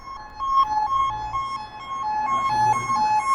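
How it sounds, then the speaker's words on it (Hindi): An ambulance siren wails in a steady two-tone pattern, strong and fairly near, over a low rumble of traffic, rising slightly as it passes by. "बहुत तेजी में एम्बुलेंस जा रही है,"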